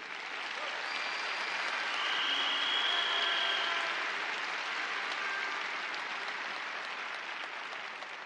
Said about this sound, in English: Let's give Jamie a massive round of applause for that